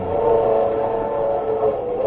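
A train sound effect in a 1948 radio drama gives a steady rumbling roll with a sustained whistle-like tone over it, continuous and fairly loud, with no voices.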